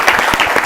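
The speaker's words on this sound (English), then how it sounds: "Let's clap for him." A short, loud burst of studio audience clapping during a televised school quiz competition, many hands clapping at once in a brief, dense flurry.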